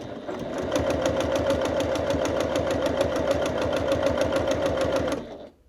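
A bernette 08 straight stitch sewing machine stitches two offcuts of bag leather into a strap, a fast even mechanical clatter running steadily for about five seconds before stopping.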